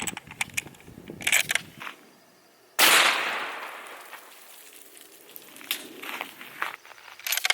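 A live-round gunshot outdoors bursts out as a single loud, sharp crack with a long, fading echo, after a few quiet clicks and rustles of handling.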